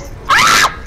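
A person playing an Overwatch-style shooter lets out a single sharp scream of fright, very loud and close, lasting about half a second.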